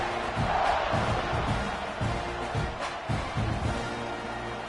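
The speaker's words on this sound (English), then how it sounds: "this crowd is buzzing after that last score" A stadium crowd in the NCAA 26 football video game keeps up a dense, steady roar and buzz with scattered cheers and thumps, fairly distant and continuous throughout.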